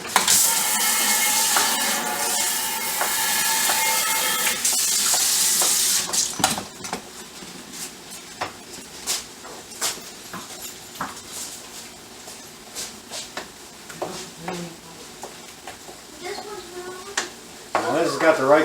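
A lasagna meat sauce is stirred in a pan, with a steady sizzle at first giving way to intermittent scraping and clinks of the spoon against the pan, and a voice talking at times.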